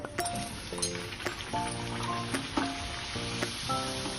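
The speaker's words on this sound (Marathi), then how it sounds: "आता या तळून घेऊया। तेल पण गरम झालंय।" Puris deep-frying in hot oil over a medium flame, a steady soft sizzle and bubbling with intermittent pops and crackles, close and fairly quiet, no one talking.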